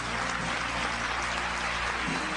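A church congregation claps together during a worship service, giving a dense, steady wash of applause that holds at an even level for the whole stretch, with no voices standing out.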